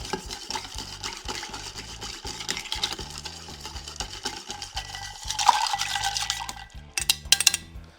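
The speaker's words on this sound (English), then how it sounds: "Let's give this a stir." A spirit-only cocktail is stirred with ice in a mixing glass, giving a steady clinking and rattling swirl, close and clear with no talk, ending in a few sharper clinks.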